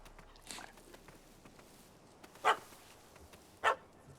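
Two short, sharp dog barks from a dog in The Witcher 3: Wild Hunt, spaced about a second apart over quiet game ambience, fairly close and distinct.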